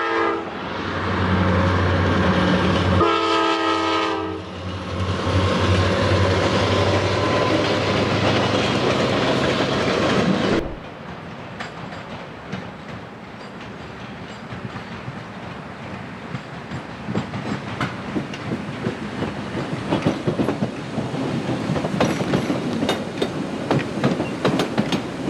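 A freight train passing in Alaska sounds a long, loud horn blast, then its wagons rumble and clatter past close by in a steady rolling roar with rhythmic clicks.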